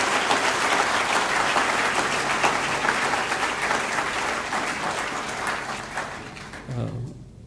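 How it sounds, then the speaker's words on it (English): A lecture audience at a live-streamed political talk gives a long round of applause, thick and even at first, gradually fading, with a brief voice emerging as it dies away. "let's begin with a round of applause for Dr."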